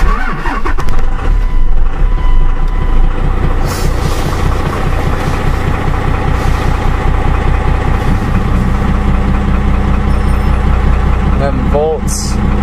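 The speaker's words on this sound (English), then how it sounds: "So I'm gonna set the camera in the truck, start her up, glow plug lights are out." A Dodge Ram pickup's Cummins 12-valve diesel engine cranks and fires in a cold start, then settles into a loud, steady rattling idle, heard from inside the cab, with someone talking over it.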